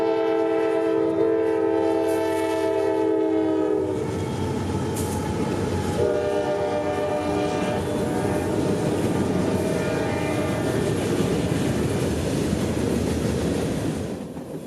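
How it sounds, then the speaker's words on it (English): Freight train M22113, running from Birmingham to Waycross in central Georgia with two locomotives leading a long string of mixed cars, sounds long loud horn blasts over a steady rumble and clatter of wheels as it passes close by. "this is a good old-fashioned freight train with a kitchen sink of cars and 2 motors on the head end pulling"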